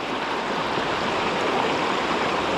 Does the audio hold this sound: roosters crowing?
no